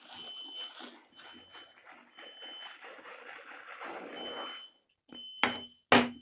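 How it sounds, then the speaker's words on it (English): A shrill, steady alarm beep sounds behind a person talking, followed by sharper, louder alarm bursts near the end. "smoke alarm's going off"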